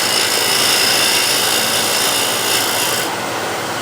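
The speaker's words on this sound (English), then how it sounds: "in this case I'm going to use it as a shear scraper" A steel negative rake scraper used as a shear scraper, rasping across a wooden workpiece in a steady continuous stroke, close and fairly loud, alone with no talk.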